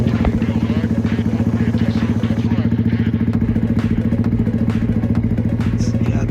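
A motorcycle engine starts and warms up at idle with a steady, loud, rapid putter, running continuously close by, with faint clatter and occasional thumps.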